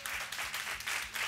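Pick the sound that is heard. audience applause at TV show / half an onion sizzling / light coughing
audience applause at TV show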